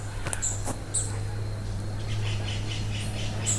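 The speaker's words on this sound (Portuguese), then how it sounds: "Pássaro esse." A bird calls along a forest trail through well-preserved native vegetation. It gives several short, high chirps, some close together, over quiet background noise.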